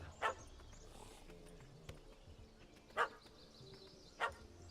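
A dog barks three times in The Witcher 3, short sharp barks spaced a second or so apart over a quiet outdoor game ambience, with no speech.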